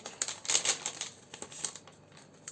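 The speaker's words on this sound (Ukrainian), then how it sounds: "Ось такий пакетик. Давайте його відкриємо." A paper surprise packet from a Labubu collection being opened by hand, giving close, uneven crinkling and rustling with a few sharper crackles, and no voice.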